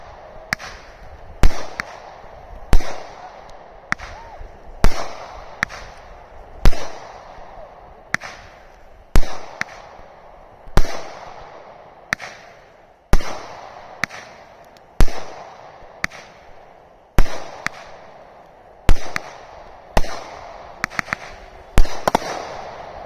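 Electronically fired fireworks set off with a P12 firing system crack in a rapid, regular series of sharp loud bangs, each followed by a short rumbling decay, continuing steadily throughout.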